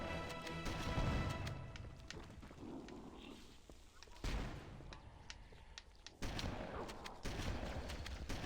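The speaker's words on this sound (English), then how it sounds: "this is another room where, yeah, you hear explosions coming up" Gunfire and explosions from a Halo: Combat Evolved battle on Legendary difficulty keep up a dense, continuous barrage of bursts and booms. The fire stays busy throughout, with a few sharper blasts standing out.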